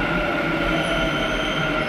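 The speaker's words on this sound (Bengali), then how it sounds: "মেট্রো চলে এসছে এখানটায় বসে বসে উঠবো" Bangalore metro train pulling into the station, a steady loud rolling rumble and hum with a faint high tonal whine, continuous and close, no talking.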